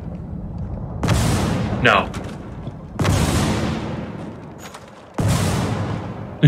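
Three heavy booming shots fire from a gun in a video game, spaced about two seconds apart, each with a long rumbling decay. A voice briefly speaks between them.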